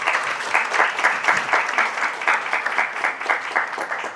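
A live audience at an investment talk applauds steadily throughout, a dense wash of many hands clapping at close range with no voices over it.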